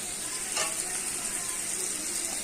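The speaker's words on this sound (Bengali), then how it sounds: "এখানে পেঁপে দিয়ে আলু দিয়ে টমেটোগুলো দিয়ে দিই" Papaya, potato and tomato pieces sizzle steadily in hot oil in a pan, a close, continuous frying hiss with a brief louder flare as the vegetables go in.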